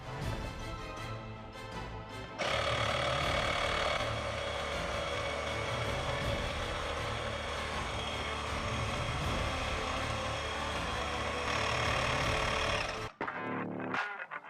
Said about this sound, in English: Okay, so I'm gonna set the pump to 24 psi as we did the front wheel.